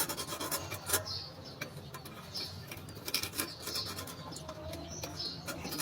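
Sandpaper rubbing the switch contacts of a rice cooker under repair, a soft repeated rasping scrape in short strokes, faint and close, with bird cooing in the background.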